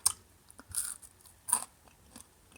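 Crunchy oven-roasted locusts are chewed close to the mic, making irregular crisp crunches between quiet pauses.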